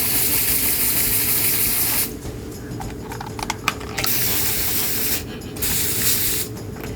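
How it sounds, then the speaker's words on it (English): A garden hose sprays water onto a SCCY pistol in a steady loud hiss, broken by two short gaps where the stream cuts off or shifts. "let's hose it down a little bit"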